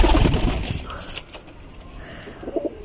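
Newly brought pigeons coo briefly close by, with a couple of soft, low cooing calls against some background rustle.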